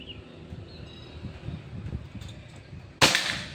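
A single sharp, loud air rifle shot cracks out near the end, following a few seconds of quiet background noise with a faint low murmur.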